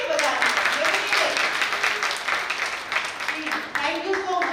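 Dense, steady applause from an audience at an event fills the stretch, loud and continuous with no clear gaps between claps.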